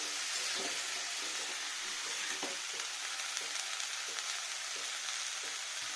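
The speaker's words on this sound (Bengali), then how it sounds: "ফুলকপি টমেটো সব দিয়ে নেবো যেগুলো বড় বড় করে পিস করেছি একটু নাড়া দিয়ে ফুলকপিটা" Large pieces of cauliflower and tomato fry in a pan with a constant soft sizzle and hiss, while a spoon stirs them in several short, regular scraping strokes.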